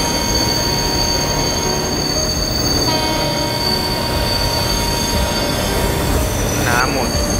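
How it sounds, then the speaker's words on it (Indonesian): A KRL commuter train rumbles loudly on the rails in a train simulator game, with sustained high metallic squealing of emergency brakes, steady and close throughout. "KRL 1187 yang melihat jalurnya tidak aman, segera mencoba melakukan pengereman"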